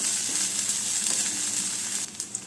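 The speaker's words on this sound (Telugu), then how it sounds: "ఇప్పుడు ఒక 1/2 స్పూను కారం, రుచికి సరిపడా సాల్ట్ వేసుకుని కొంచెంగా ఫ్రై చేసుకుందాం" Chili powder and salt fry in a hot pan for potato rice, giving a steady close hiss and sizzle throughout with a few light stirring clinks near the end.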